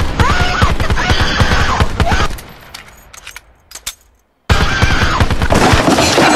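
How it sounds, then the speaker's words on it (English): Extremely rapid semi-automatic gunfire in Black Ops 4 rattles out in two loud, dense bursts, separated by a quieter gap of sparse mechanical clicks and near-silence. "That was probably like 50 bullets in less than half a second."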